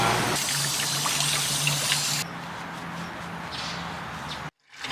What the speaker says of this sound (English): Dumping the water now that Nova's done